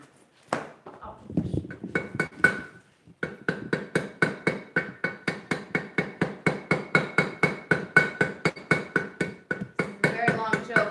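A hammer forging chain links during forge-weld practice, a long run of evenly spaced sharp metallic strikes on an anvil, ringing and close, after a few irregular knocks and a brief pause at the start.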